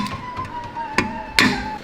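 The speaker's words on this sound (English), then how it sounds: "That chisel." A steel chisel knocks a tack weld off an aluminum exhaust in a fabrication shop: two sharp metallic strikes about half a second apart, each ringing briefly, over a faint steady hum.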